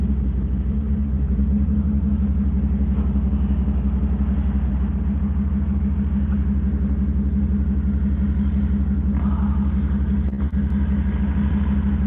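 Truck engine fitted with a Whipple supercharger, cruising with the windows down: a steady, loud low rumble with a faint supercharger whine running through it, no talking.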